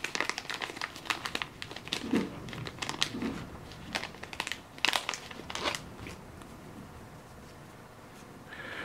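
Cards from the Soldier Kings board game are handled: a crisp, crinkly rustle with a run of sharp snaps and flicks, close and fairly quiet, with no talking.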